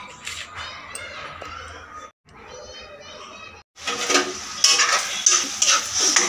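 Onions frying in oil in a kadai, a close crackling sizzle that briefly drops out twice, then returns louder and busier with stirring.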